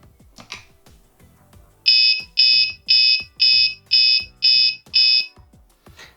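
Seven sharp, high electronic beeps from a homemade alcohol, smoke and perfume detector alarm reading a very high value, in a steady rhythm, loud and close, after a few soft clicks.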